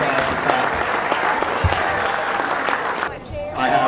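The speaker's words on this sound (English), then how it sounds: "Give her a clap." An audience at the 2012 OC Marlin Club awards dinner at Sunset Marina claps together, a dense sustained round of applause that fades after about three seconds into room noise, with a voice speaking briefly.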